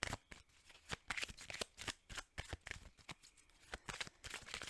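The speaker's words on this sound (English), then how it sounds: "I'm going to pull a couple Kipper cards as well." Kipper fortune-telling cards being shuffled, quiet close riffles and flicks in an irregular rhythm of short bursts, with no talking.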